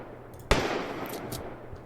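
A DSR sniper rifle fires a single sharp, loud shot in the video game Monstastrophe, with a short trailing tail and faint mechanical clicks after, and no speech.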